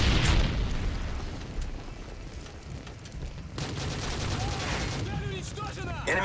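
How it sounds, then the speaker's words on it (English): Predator missile strike explosions in a video game rumble and crackle loudly, with a heavy blast at the start, a second burst partway through, and gunfire and voices mixed in. "friendly Predator missile inbound."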